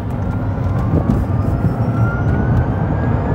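Tesla Roadster electric drive with a single-speed transmission, its whine rising slowly in pitch above heavy low road rumble as the car accelerates, loud and steady with no talking.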